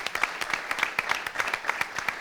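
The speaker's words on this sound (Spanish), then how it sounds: "yo creo que se merece un aplauso," An audience at a Spanish hockey federation centenary event applauds for Maite, with steady, moderately loud clapping of many hands throughout.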